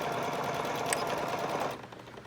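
A sewing machine runs steadily while back stitching to secure a zipper onto a bag or purse, the whirring motor and rapid needle strokes continuing for most of the clip before stopping abruptly near the end.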